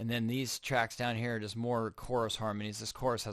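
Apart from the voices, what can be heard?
No distinct noise like a dog, phone or traffic.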